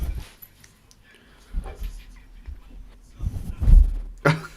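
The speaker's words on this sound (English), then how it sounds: "if you can just hear a dog sniffing on the mic" A dog sniffs close against a microphone, giving soft irregular snuffling bursts and low thumps that grow louder toward the end, with some faint background voice.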